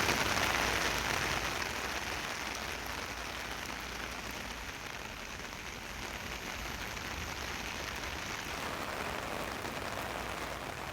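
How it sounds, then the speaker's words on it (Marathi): Heavy monsoon rain pours down over Vikramgad in Palghar district in a steady, dense hiss that stays loud and even throughout, with no voices. "विक्रमगडसह परिसरात मुसळधार पाऊस झाला"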